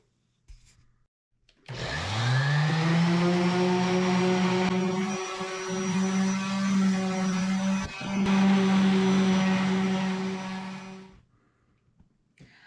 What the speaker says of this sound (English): now I'm going to get everything sanded down and ready to assemble